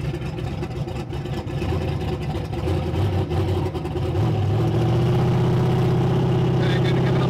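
A Shelby Mustang engine gets a little gas, its steady mid-pitched drone rising in pitch and growing louder toward the end as the revs climb, with voices talking over it.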